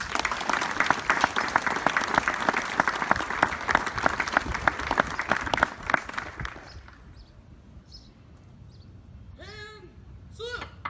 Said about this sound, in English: please join me in a round of applause for our award recipients